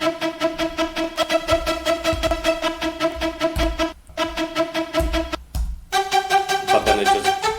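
A violent build-up in an electronic dance track plays loud and dense, with pounding low beats, sustained tonal layers and brief drop-outs before it surges back in.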